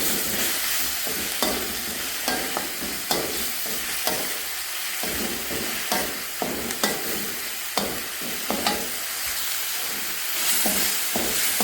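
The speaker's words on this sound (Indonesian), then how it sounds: "Kita tumis hingga wangi ya guys" Spice paste with bay leaves stir-fried in a pan, giving a steady close sizzle and hiss broken by repeated scraping clicks of a spatula against the metal.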